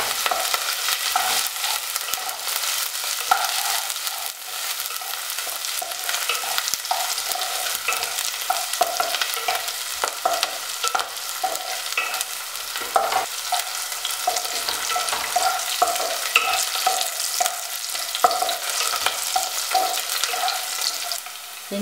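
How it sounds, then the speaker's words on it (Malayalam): Ginger, garlic and green chili sauté in hot oil for a pickle, a steady, close crackling sizzle with scattered stirring scrapes throughout and no talking. "ഇതിലേക്ക് ഇഞ്ചി, വെളുത്തുള്ളി, പച്ചമുളക് ഇടാം."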